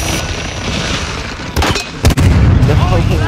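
Frag grenade explosion in Call of Duty Warzone 2, a sharp booming burst amid gunfire-like crackle during a hectic match, with players' voices around it.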